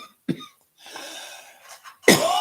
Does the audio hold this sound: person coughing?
yes